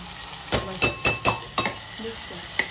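Onion and garlic fry in a pan on a gas stove while a utensil stirs, sharp metallic clinks and scrapes striking every few moments over a soft, continuous sizzle.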